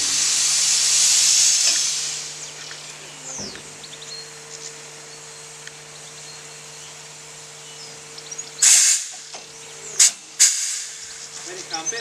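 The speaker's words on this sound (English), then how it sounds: "Let it come, a bit more steam." Steam hisses loudly from a steam locomotive on the Bure Valley Railway, a steady rush for the first two seconds, then short sharp bursts later on, with a low steady hum underneath and brief talk.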